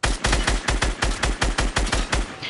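A burst of rapid automatic gunfire in a battle royale video game, roughly a dozen loud, evenly spaced shots crackling in quick succession over under three seconds with nothing else heard.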